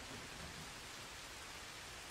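Rain falls outdoors on a wet day, a broad, steady wash of hissing noise that stays even and unbroken, with no voices or distinct drops standing out.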